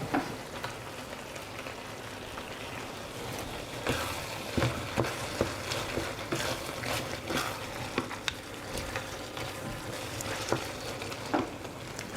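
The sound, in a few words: butter frying and being stirred in pasta pan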